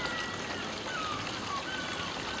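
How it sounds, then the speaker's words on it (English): A garden pond waterfall trickles and splashes in a steady, close wash of running water, continuous and even across the whole stretch. "the waterfall's going okay"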